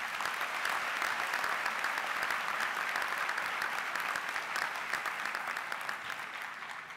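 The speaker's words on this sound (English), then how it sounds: "Let's give them another round of applause." Sustained applause from a large audience at a university commencement ceremony, a thick, even roar of clapping that holds steady for several seconds and then eases slightly toward the end, with no voices over it.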